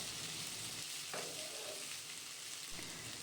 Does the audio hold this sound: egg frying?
yes